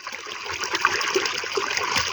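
Water gushing from a 3 HP solar borewell pump out on a farm under cloudy skies, a continuous rushing splash that stays steady and fairly loud throughout, with no voices.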